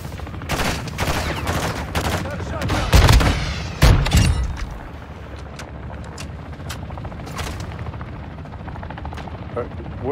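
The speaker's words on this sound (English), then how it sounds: "I'm taking fire!" Gunfire in the game Call of Duty DMZ: rapid bursts of shots crack up close, loudest in a heavy cluster of booms midway, while a helicopter drones and players talk over it.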